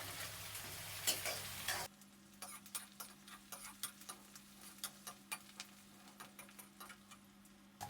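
Onion frying in a pan while fish curry is being made, a steady low sizzle under repeated sharp metallic ticks and scrapes of stirring, close and fairly quiet after a brief louder burst at the start.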